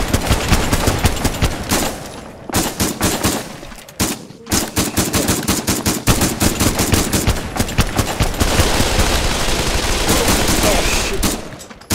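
Rapid gunfire in the VR shooter Pavlov's Call of Duty zombies mode, with loud sustained automatic bursts, short pauses and dense overlapping shots continuing almost throughout.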